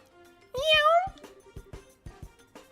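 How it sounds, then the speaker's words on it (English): A cat in the video game Tails in the Sky gives one clear rising meow up close, followed by a few short clicky game sounds. "so what's with the cat?"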